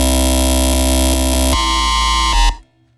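A dubstep pattern with sub bass plays as a dense, buzzing synth tone with heavy low end, shifting timbre midway and cutting off abruptly near the end.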